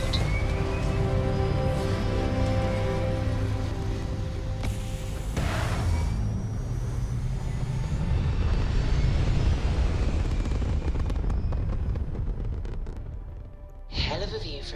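A spaceship lifting off in the Starfield video game, heard as a loud sustained engine roar with rumbling low end and shifting tones throughout, a burst of noise near the end, and voices talking faintly under it.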